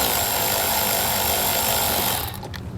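On a 2022 Chevrolet Colorado, a power tool removes 7mm head bolts from a fascia bracket. It makes a loud, steady buzzing whir that cuts off near the end, leaving a softer rattle.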